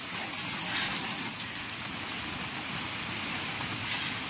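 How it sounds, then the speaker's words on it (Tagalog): Heavy rain pouring down outdoors, a dense, steady hiss of drops drumming on surfaces, loud and unbroken throughout, with no voices. "Ang lakas ng ulan."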